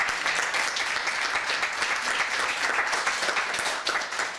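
An audience at a talk about Polish heritage in the Grodno region applauds. The clapping is dense and steady, fills the room and lasts throughout, with no pause and no voice on top.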